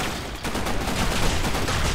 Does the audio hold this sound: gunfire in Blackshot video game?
yes